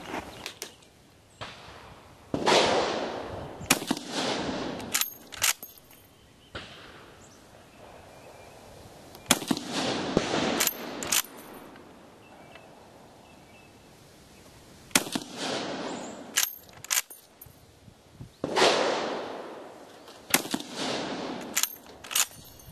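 M95 carbine rifle firing, several sharp loud cracks spread irregularly across the stretch with handling clatter and rustling in between, the reports ringing out briefly and close.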